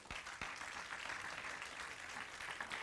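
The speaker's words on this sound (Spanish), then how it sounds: "denle un aplauso al Señor" A church congregation applauding during a sermon, continuous crowded clapping heard faint and distant, with a couple of sharp low thumps near the start.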